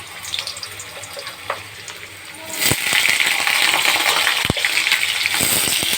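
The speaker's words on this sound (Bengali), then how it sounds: "এবার আলুটাকে আমি আধ ভাজা করে নেব।" Potatoes drop into hot oil seasoned with nigella seeds in a wok and burst into loud, steady sizzling, with a few clinks of a utensil.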